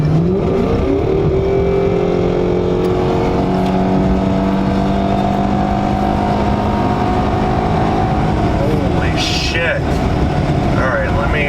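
A Hyundai Equus sedan accelerating hard, engine tone rising in long climbing sweeps through the gears, loud and close from inside the cabin, with someone talking over it.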